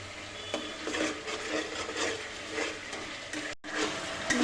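Bengali spice masala for aloo potol being stirred and scraped in a pan, a close run of rasping, rubbing strokes with a faint sizzle underneath and one brief cut near the end.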